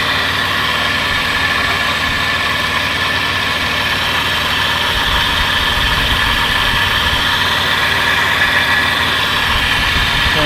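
A Toyota 80 Series Land Cruiser engine idles steadily and close by, a continuous loud low rumble with constant mechanical whine and no speech, suggesting an older truck under restoration.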